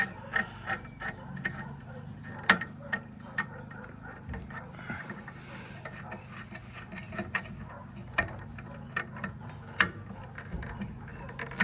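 A screwdriver tightens resistor terminal screws on a fire alarm panel, giving quiet, irregular ratcheting clicks and ticks, close and faint, with no talk.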